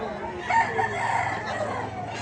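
A fighting rooster crows once at a poultry seller's, a clear, moderately loud call rising over steady background noise.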